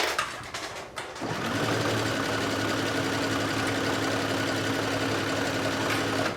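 After a brief start, a sewing machine hums steadily and close while stitching through three layers of a swim top, main fabric, ruffle and lining, keeping an even, continuous drone to the end.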